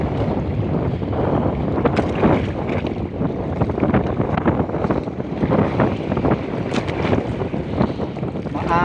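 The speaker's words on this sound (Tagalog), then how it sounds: "Maalon tsaka mahangin pati rin." Strong wind and choppy waves heard from the deck of a moving ship, a loud continuous rush of gusting air and splashing water with buffeting bursts against the microphone, and no clear speech.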